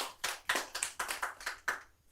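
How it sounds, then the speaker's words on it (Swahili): Eight sharp, evenly spaced bursts of clapping ring out at a political debate for MP aspirants at an outdoor resort, as a crowd claps in unison to a count. "Tumpigie makofi tena."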